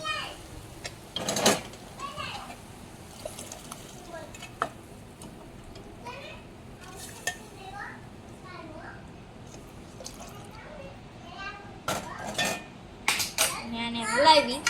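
Potato filling for an aloo sandwich stirred in a metal pan, with scattered clinks and scrapes of a utensil against the pan, a few sharper knocks near the end, quiet kitchen background.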